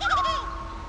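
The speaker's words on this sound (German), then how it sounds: "Ah, ein Vögelchen." A brief chirping, warbling bird call from the Worms Forts Under Siege video game, rising and falling quickly and then fading into a low hum.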